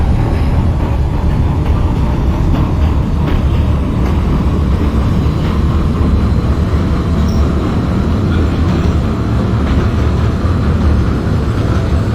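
An NYC Subway R160 F train runs in the OpenBVE simulator, a loud continuous low rumble and rolling drone of the car in motion, steady throughout with a faint high whine.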